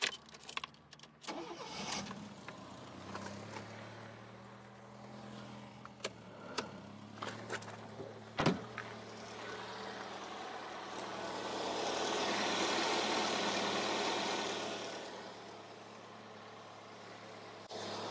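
A Fiat Panda engine cranks and starts after a water pump, timing belt and tensioner replacement, then idles with a steady low hum that swells louder for a few seconds before settling, alongside scattered clicks and knocks nearby.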